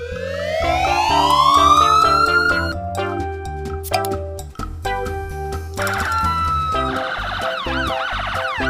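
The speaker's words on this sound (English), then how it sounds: "Ambulance car." An ambulance siren climbs in a long rising wail, then cycles through rapid warbling tones, loud and close, over a musical background.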